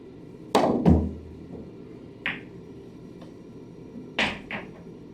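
Pool cue striking the ball for an Efren Reyes Z kick shot, hit at medium speed off a rail: a sharp crack followed by a second knock, then a few lighter clicks of balls and a final pair of taps.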